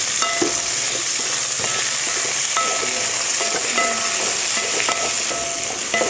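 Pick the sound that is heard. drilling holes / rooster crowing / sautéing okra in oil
sautéing okra in oil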